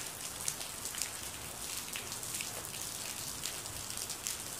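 Hail mixed with rain falls steadily in the UAE, a dense, even patter of drops striking surfaces with scattered sharper ticks, continuous and moderately close, with no voices.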